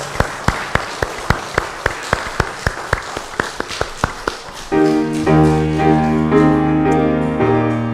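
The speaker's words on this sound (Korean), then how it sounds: "중앙으로 지나가면 박수 하세요" A Korean church congregation claps in unison during Sunday worship, sharp regular beats about three per second for several seconds, then sustained organ-like hymn music takes over.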